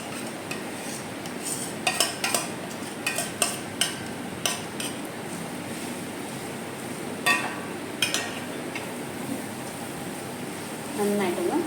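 Spoon scraping and clinking against a bowl while boiled mashed potato is mixed for beef cutlet, irregular metallic taps over steady background hum, with a person talking throughout.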